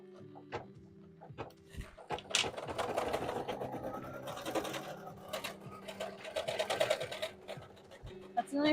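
A home sewing machine stitches fabric with no stabilizer after a caught bobbin, running in steady rapid bursts with small clicks and knocks between them, close and moderately loud.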